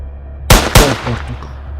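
Two sharp gunshots crack in quick succession, loud and close, each followed by a short fading echo, a sound effect set within a narrated jungle story about shooting a leopard.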